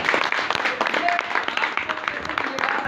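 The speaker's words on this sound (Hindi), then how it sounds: "मैं चाहूँगा एक बार फिर से तालियां हो जाए" An audience at a startup grand opening celebration in India applauds, a continuous bright patter of many hands throughout, with some voices rising under the clapping.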